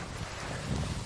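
Wind gusts outdoors in cold weather around a spirit burner, a low, steady rushing buffet against the microphone that swells slightly toward the end; quiet and continuous, with no talking.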